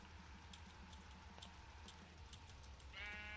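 A sheep in a video game lets out a brief bleat at the end, with a harmonic cry over steady rain-like ambient noise and faint clicks earlier.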